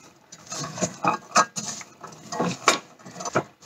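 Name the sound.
soya beans being mixed in a bowl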